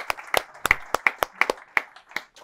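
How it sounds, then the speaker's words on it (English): A handful of audience members at a business panel clap in a short round of applause, distinct individual claps close by and loosely rhythmic, tapering off after a couple of seconds. "Can we have a huge round of applause?"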